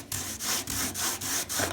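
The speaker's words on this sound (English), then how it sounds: "start sanding the imperfections and where the bubbles and stuff came up at" Hand sanding of a carbon fiber car hood with 80 grit sandpaper: steady back-and-forth scraping strokes in an even rhythm, about five passes, close and fairly loud.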